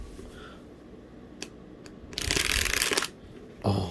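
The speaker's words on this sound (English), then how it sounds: "Let's go ahead and do a quick shuffle." A tarot deck being shuffled, with a loud riffle burst of about one second after quieter handling clicks, then another brief riffle at the end, close up and with no talking.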